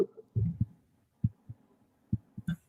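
A heartbeat sound effect plays in irregular paired low thumps, several double beats spread across a quiet stretch with nothing else around them.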